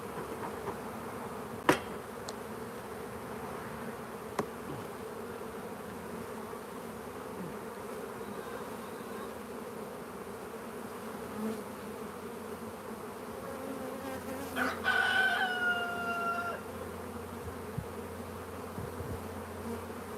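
A large honeybee colony hums steadily during an open hive inspection, with a soft continuous buzz, a few faint taps, and a brief louder whine of a bee passing close near the end.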